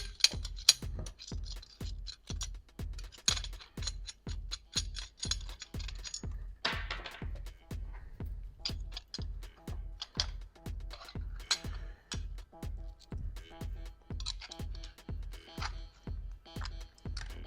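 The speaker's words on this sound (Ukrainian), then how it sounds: "відкручуємо три болти" A steady series of sharp mechanical clicks, like a ratcheting tool working, as three bolts are loosened on the flange of a Franke Turbo food waste disposer, fairly quiet and close with a short pause midway.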